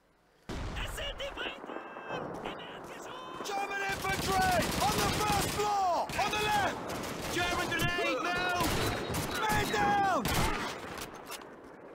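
Rapid gunfire from the Call of Duty 2 video game in a Tunisia war level, repeated bursts of shots running nearly continuously at close range with game effects layered over them.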